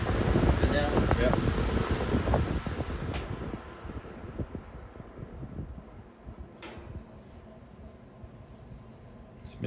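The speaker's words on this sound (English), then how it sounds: "Spin down with metal bladed fans are awesome. They just go on for days." A Hampton Bay high-velocity floor fan with metal blades spins down after being switched off. A steady whooshing rush fades gradually over several seconds, with no voices.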